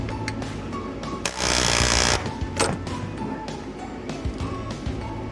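Sharp metallic chisel strikes and scraping against a ceiling panel fastener inside a school bus, close and irregular, with one longer grinding burst and repeated knocks.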